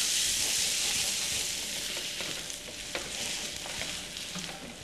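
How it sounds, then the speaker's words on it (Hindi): Onions sizzle and fry in a pan with toasted cumin, a continuous close hiss of frying with faint stirring scrapes and small pops. "तो जैसे जीरा भुन गया तो हम उसमें प्याज डाल देते हैं और प्याज को भून लेते हैं"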